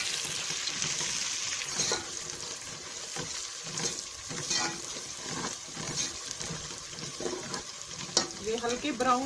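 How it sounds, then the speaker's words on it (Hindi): Ginger paste and onions sizzle in a hot pan for an aloo matar curry, a steady close frying hiss with intermittent stirring scrapes throughout, no voices. "इसमें हमने 2 चम्मच अदरक का पेस्ट डालेंगे और अदरक के साथ प्याज को फ्राई करेंगे।"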